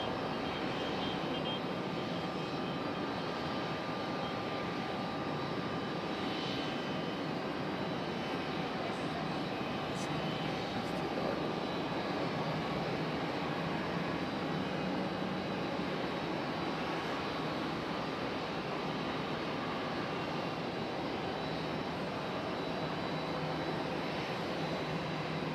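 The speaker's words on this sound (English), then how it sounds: "JetBlue and Air Canada here." Jet engines of arriving JetBlue and Air Canada airliners at Raleigh-Durham International Airport form a steady, fairly distant broadband roar that holds evenly throughout.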